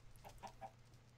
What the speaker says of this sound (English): There's a chicken controlling this thing?